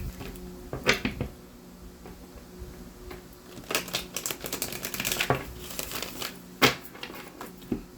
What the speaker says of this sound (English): Let me get you some good shuffles in, and we will begin your reading.